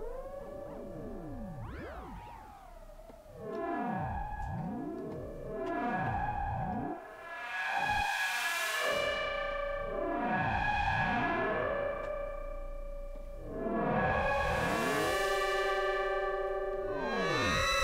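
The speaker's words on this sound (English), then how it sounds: "Let's put some delay on," Synthesizer tones with a delay effect, notes repeating and sweeping in echoing trails that overlap and swell, played alone without voices.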